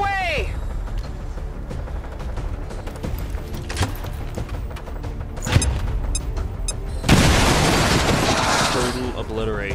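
In the XCOM 2 video game, a bomb detonates with a broad, roaring blast that lingers to the end, following scattered gunfire and mechanical clanks over a steady game soundtrack.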